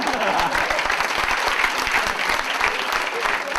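A crowd at a Gujarati stand-up comedy show claps, with steady, dense applause filling the space at a constant level from start to finish.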